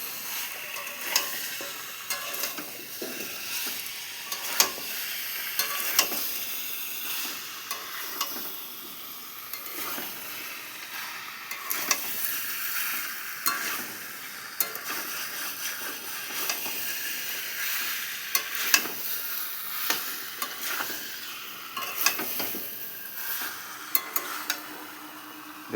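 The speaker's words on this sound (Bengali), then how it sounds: "মাংসটা ভালো করে কষিয়ে নিচ্ছি" Meat being sautéed in a pan for a kosha: a steady close sizzle and hiss, with repeated scraping stirs and occasional sharp clicks of the utensil throughout. No one speaks.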